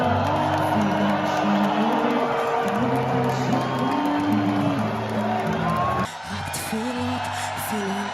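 Large Eurovision arena crowd roars continuously, with sustained low vocal bellows that could be booing mixed into loud cheering and whoops. The noise drops slightly near the end.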